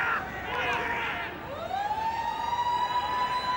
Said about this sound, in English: There's that siren in the background